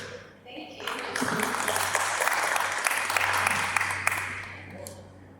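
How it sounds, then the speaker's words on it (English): Audience applause after a student pitch presentation at a Shark Tank style school event: a sustained, dense burst of many people clapping that swells quickly, holds steady and loud, then tapers off, with a faint hum underneath. "Can we please give a round of applause for these lovely ladies and this beautiful product?"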